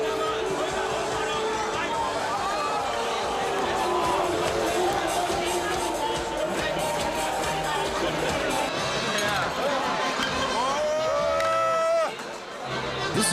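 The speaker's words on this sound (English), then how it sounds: "Here in a genuine Bavarian beer hall on the fairgrounds." A dense, steady wall of crowd chatter and voices fills a genuine Bavarian beer hall on trade fairgrounds, loud and unbroken until it drops slightly near the end.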